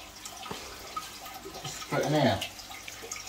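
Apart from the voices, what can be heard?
aquarium tank water being poured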